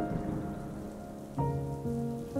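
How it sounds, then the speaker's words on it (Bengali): Rain falls steadily on a surface as a sound effect in a Bengali audio drama, a constant patter with tonal musical notes rising behind it and no voices. "শুরু হলো বৃষ্টি।"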